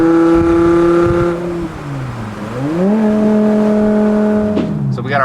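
A straight-piped BMW E60 M5 exhaust pulls hard in a moving car, a loud, close, rasping engine note that climbs, drops briefly between gears, then climbs again, with faint talk underneath.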